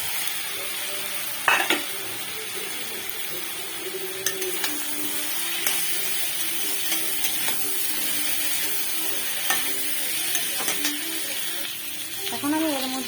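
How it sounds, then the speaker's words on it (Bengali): Fried potatoes stirred into a sizzling spice paste in oil for a fish curry, a steady close sizzle with scraping stirs and occasional sharp clatters of a spoon against the pan. "তো এবার আমি এটার মধ্যে দিয়ে দেবো ভেজে রাখা আলু।"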